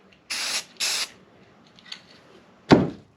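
Spray can laying down a heavy coat of primer paint: two short hissing bursts close together, a faint rattle, then a third sharp burst near the end, with quiet gaps between.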